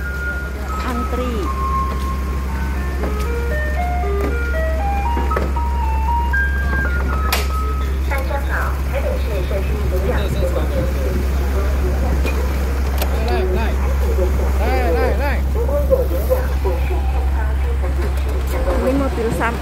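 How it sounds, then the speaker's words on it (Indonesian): A garbage truck on a street in Taiwan arrives playing its melodic jingle, the tune repeating steadily over a constant low engine hum while people talk nearby. "Ini mobil sampahnya ini."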